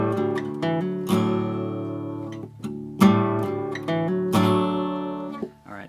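Acoustic guitar notes and chords plucked one after another, each ringing out briefly before the next, close and clear.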